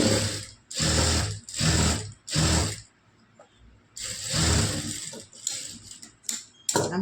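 A sewing machine stitches a blouse in four short, loud, even bursts, falls quiet for about a second, then runs again in a longer burst that ends in a few quick stops.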